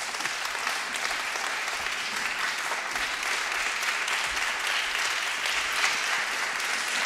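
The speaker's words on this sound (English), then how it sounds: "please, another round of applause for Mary Robinson" Sustained audience applause for Mary Robinson at a women political leaders summit, a steady, even roar of many hands clapping at moderate level without pause.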